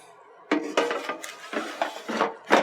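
Seasoned salmon pieces with salt, pepper, Creole seasoning, garlic powder and olive oil rattle and clatter in an air fryer basket as it is shaken, several close metallic shuffling bursts in quick succession.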